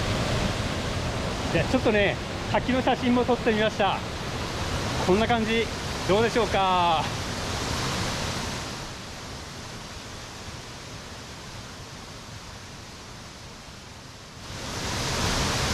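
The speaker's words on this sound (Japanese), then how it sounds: "これがねクレザメの滝、結構大きいんですよね。" Kurezame waterfall in the Kuju mountains, a fairly large fall in autumn woods, gives a steady broadband roar throughout, with someone speaking briefly over it near the start.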